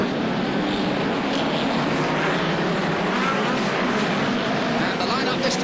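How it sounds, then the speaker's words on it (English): Hot rod racing cars idle and rev together on the Wimbledon stadium track before the start, a loud continuous engine roar with no breaks. "The starting marshal checks the engines are all running all the way around"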